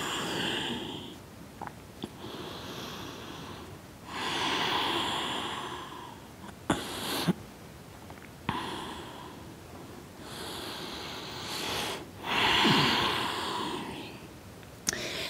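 Slow, deep breathing during a yoga forward fold, close and clear, with long audible inhales and exhales repeating in an unhurried rhythm and occasional soft clicks between breaths.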